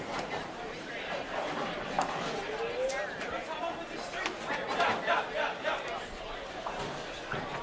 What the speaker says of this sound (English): I think I just heard my first cheer for the men's side.